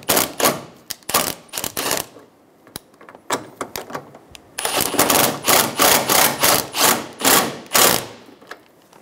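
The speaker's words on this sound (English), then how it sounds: "Install the 10 millimeter bolts in the top of the bumper." Someone drives 10 millimeter bolts into the top of the bumper on a 2011-2014 Hyundai Sonata. Sharp rapid clicking comes in quick bursts, then a longer, louder run of clatter, close and unaccompanied.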